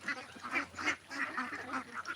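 Ducks quack repeatedly in a steady, overlapping rhythm, a flock of about five hundred on a duck farm close by, with a low hum underneath.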